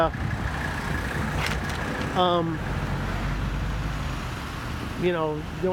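Cars moving through a road intersection, engine and road noise running steadily with a couple of rising tonal whines from passing vehicles, while a person talks over it.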